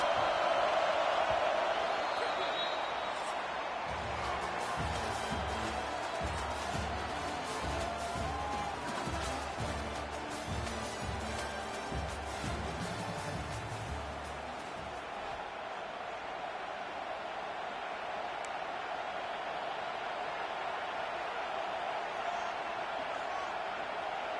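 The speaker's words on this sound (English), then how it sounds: "Listen to this crowd just shaking the girders of this place, trying to help their defense." A stadium crowd in the NCAA 26 college football video game roars steadily at a football game, a dense, sustained wash of cheering that stays loud and even throughout with no break.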